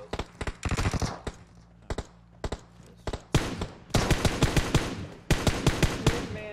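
Gunfire rings out in PUBG Mobile, sharp shots that come singly at first and then turn into rapid automatic bursts, loud and close with no talking during the shooting.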